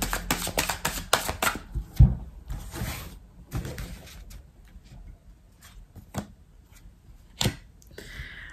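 Oracle cards are shuffled close up with quick riffling and sliding bursts, then slapped down and drawn with a few crisp snaps and taps amid quieter pauses. No one speaks.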